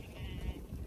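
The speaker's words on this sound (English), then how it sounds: "A lot of people get annoyed with sheep because they're very habit forming." Sheep bleat in a dry, drought-hit pasture: a brief, moderately distant bleat over low rumbling background noise.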